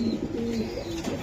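A light-coloured racer pigeon gives soft, low, throaty coos close by, set against a busy loft with background murmur and rustling.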